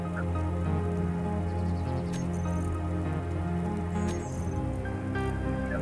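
Storm rain patters steadily in the video game Space Engineers, a continuous dense hiss with low machine hum beneath and a few faint clicks.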